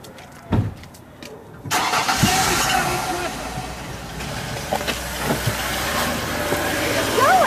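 A car engine turns over and catches, then settles into a steady running rumble close by, with a sharp knock just before it and shouting voices in the background.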